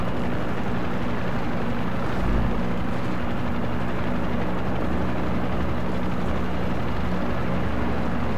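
A helicopter flies in the video game Far Cry 6, giving a steady, loud rotor and engine drone that continues without a break and has no talk over it.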